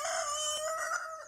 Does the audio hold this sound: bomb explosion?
no